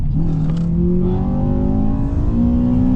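A damaged Honda Civic Type R FN2 engine revs hard into VTEC and climbs steadily in pitch under acceleration in third gear, loud and close, with continuous road and wind rumble.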